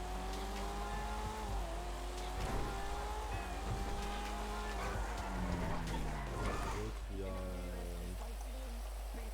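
A BMW in the FiveM game accelerating, engine tone sweeping steadily upward through the gears over a constant hum, with a loud, sustained, close presence and a couple of shift-like drops.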